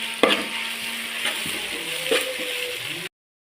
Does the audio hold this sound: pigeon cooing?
no